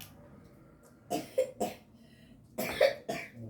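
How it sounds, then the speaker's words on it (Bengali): A young child coughs in two quick bursts of three, loud and close, with quiet pauses between them. "আবার একটু কাশি হয়েছে তো"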